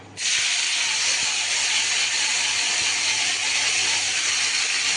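Marinated vegetables drop into a hot pan over a medium flame and set off a sudden loud, broad hiss that holds steady and close for the rest of the clip.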